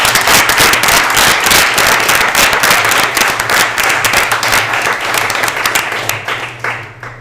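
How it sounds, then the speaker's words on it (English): Loud, close applause for a speaker at a mentorship talk, with many hands clapping briskly and a low hum underneath. The clapping thins and fades over the last couple of seconds. "let's give Raymond a round of applause."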